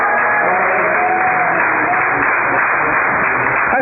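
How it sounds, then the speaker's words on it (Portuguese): A church congregation claps their hands together in a dense, continuous wash of applause that stays steady and loud throughout, with no clear voices standing out. "Você bate mais palmas da glória a Jesus."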